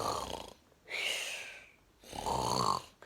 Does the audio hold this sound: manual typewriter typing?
no